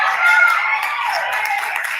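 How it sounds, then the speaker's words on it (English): A front-row audience claps steadily and at close range, a continuous patter of hands for about two seconds with no voices over it. "It's like the only people clapping is that front row."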